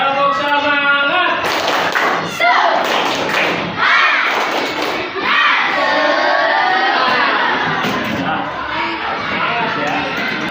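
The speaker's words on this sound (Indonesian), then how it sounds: "Tepuk semangat." Schoolchildren in a classroom do a rhythmic tepuk semangat chant, with sharp clapped beats and taps under lively group chanting and shouts that carry on for the full length.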